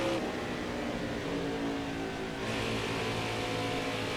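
A NASCAR stock car in the NASCAR Heat 5 racing game holds a loud, steady engine drone at full throttle for a few seconds, with a slight shift in pitch partway through.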